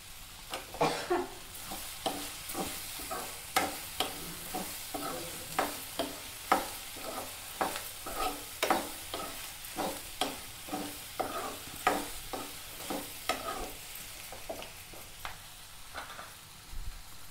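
Okra frying in a pan with a steady sizzle, and a spoon stirring in regular scraping strokes about every second, close and clear with no talk.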